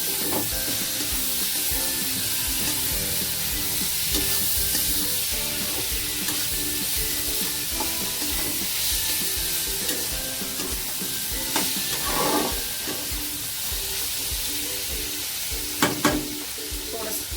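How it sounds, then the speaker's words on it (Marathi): Chopped tomatoes fry with spices and onions in a pan for egg bhurji, a dense, even sizzle and hiss running close and steady, broken by a few faint stirring clinks. "टोमॅटोला फ्राय होऊन घेऊया."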